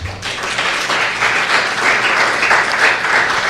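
A church congregation claps loudly and continuously, a dense wash of applause with no voices.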